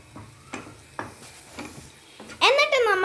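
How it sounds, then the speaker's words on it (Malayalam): Ground cumin and turmeric stirred into brinjal curry frying in a pan: spaced scraping strokes of a spoon against the pan, roughly every half second, close and clear, then a voice starts talking over the stirring near the end. "അതിൻ്റെ കൂടെ തന്നെ ജീരകം പൊടിച്ചതും ചേർത്ത് കൊടുക്കാം. എന്നിട്ട് ഇത് രണ്ടും കൂടെ നല്ലോണം ഒന്ന് മിക്സ് ചെയ്യാം."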